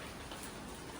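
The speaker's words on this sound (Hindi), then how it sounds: "बारिश हो रही है बहुत तेज" Heavy rain pours steadily outside a window as a continuous, even hiss, faint and without any voices.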